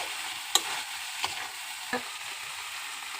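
Potatoes fry in oil in a pan after a splash of water is added, a soft continuous sizzle broken by a few sharp scraping stirs of the spoon.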